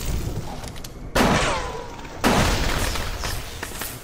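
Two loud gunshot blasts from a first-person shooter, BioShock, fired about a second apart, each bursting hard and then rolling off into a long echoing decay over dim game ambience.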